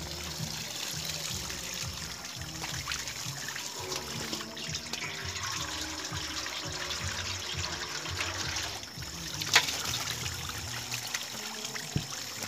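Water being let into a catfish tank, a continuous trickling, splashing flow running steadily close by with a few small knocks.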